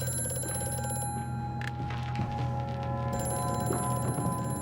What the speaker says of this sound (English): We're going to start getting these phone calls that we're going to run past and ignore.